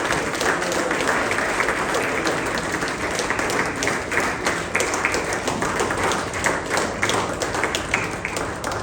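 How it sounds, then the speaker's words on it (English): Sustained audience applause at the Social Entrepreneur of the Year award ceremony in India, a loud, dense, steady patter of many hands clapping with individual claps popping out, while a voice speaks over it. "Let's keep the applause going, ladies and gentlemen."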